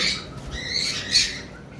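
Yellow-sided conure parrots give a short harsh squawk with a sharper peak near the end, close and fairly loud over faint background noise.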